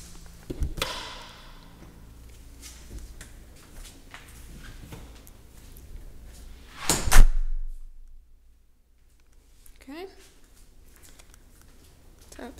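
A garage door inside a newly built family home swings open and shuts, a single loud thump standing out over faint room noise and brief background speech.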